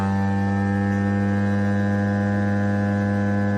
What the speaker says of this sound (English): It sucks out all of the air.